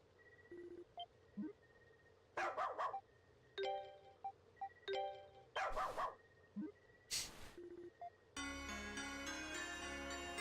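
A dog in the video game Ys: Memories of Celceta, a series of short sharp barks and yips amid game sound effects and chimes, ending in a sustained burst of music.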